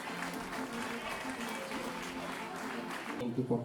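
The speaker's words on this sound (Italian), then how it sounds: "Facciamogli un applauso da questa bellissima piazza" An audience in an outdoor piazza applauds steadily for Emilio Casu at a summer 2023 evening event in Nureci, a distant, continuous wash of clapping with voices mixed in near the end.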